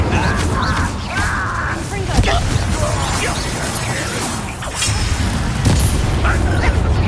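The Incendio fire spell is cast in the video game Hogwarts Legacy, a loud whooshing burst of flame and rumbling booms over constant battle noise, with fresh surges near two and five seconds.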